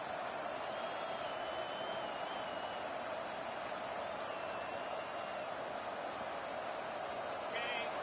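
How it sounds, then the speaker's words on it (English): A steady, dense roar from a college football video game stadium crowd, Ohio State against Penn State, holding at one level throughout with faint whistle-like tones riding on top and no clear peaks. "This crowd bringing the energy and noise early."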